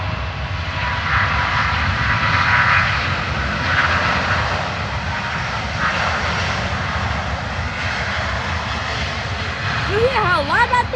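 A Delta Airbus A350 jet roars through its takeoff with a loud, steady, broadband engine rumble that lasts throughout. A voice chirps briefly near the end.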